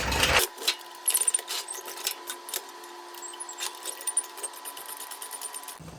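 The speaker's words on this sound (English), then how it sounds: "And ratchet it in a little further." Ratchet tightening the bolt on a Dr. KDSS front sway bar end adapter on a 4Runner, Land Cruiser or GX470, giving a run of quick, close metallic clicks and small tool knocks with no talking.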